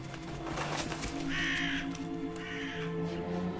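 Two harsh, raspy caws from a raven or crow sound out at moderate distance over a steady background hum.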